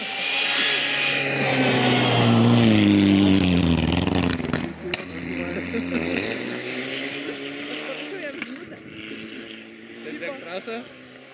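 Rally cars race past on a Žemaitija rally course, a loud, rising engine roar that peaks and fades with revving, while spectators talk and cheer nearby.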